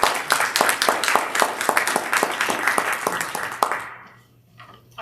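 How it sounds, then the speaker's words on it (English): A room of people gives Stan a round of applause at an adult community presentation, with dense, steady clapping that cuts off sharply near the end, leaving quiet. "I'd like to give a round of applause for Stan."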